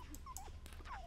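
Dogs whimpering in The Sims 4, a few faint high whines and yips in quick succession, soft and close over a low background hum.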